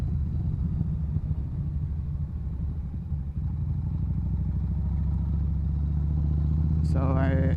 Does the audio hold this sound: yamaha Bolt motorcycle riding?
yes